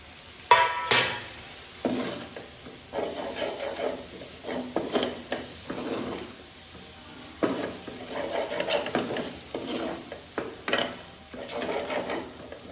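Fenugreek leaves fry in oil in a pan, a soft ongoing sizzle broken by repeated stirring scrapes and clinks of a utensil against the pan, close by and with no talk.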